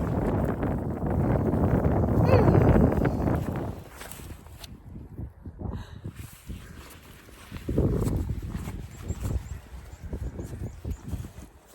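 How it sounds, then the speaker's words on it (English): Strong gusts of wind buffet the microphone in heavy, roaring bursts that ease and return, with faint crunching steps underneath. "So, it's really windy."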